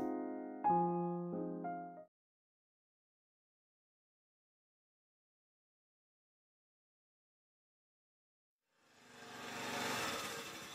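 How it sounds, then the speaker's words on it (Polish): After a few short musical tones and a stretch of silence, a motorbike engine rises outside a window, swelling in as a rough broadband roar over the last two seconds. "Za okna dobył się dźwięk motoru."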